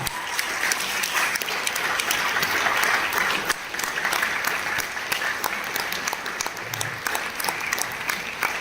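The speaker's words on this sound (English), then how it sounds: "Huge round of applause for this great teamwork." An audience at a school class presentation applauds, a loud, dense, continuous wash of clapping with sharp individual claps standing out and a faint crowd murmur underneath.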